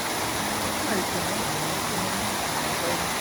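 A waterfall on a camping trail rushes in a loud, steady broadband roar close by, with people talking over it.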